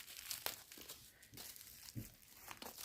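Packing tape being pulled and fought off a parcel during an unboxing of cross-stitch supplies, with quiet crinkling, tearing and rustling in irregular bursts, close but faint.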